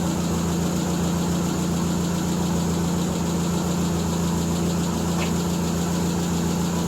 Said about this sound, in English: Might be a little on the high idle side.